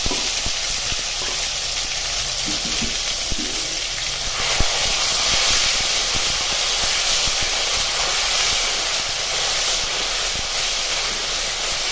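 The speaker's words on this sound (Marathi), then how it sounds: "हिरवी मिरची पेस्ट टाकली चांगली परतून घ्यायची आहे" A steady, loud hiss of green chili paste frying in hot oil continues without a break, with no voices.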